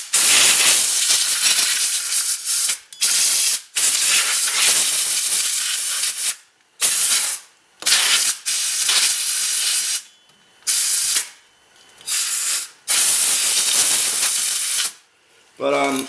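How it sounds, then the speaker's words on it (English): Compressed air blasting debris off the rear brake of a Hyundai Sonata, with loud, close hissing bursts of varying length separated by brief pauses. "I'm gonna go ahead and take some air and I'm gonna air off, get anything that, all the broken pieces off."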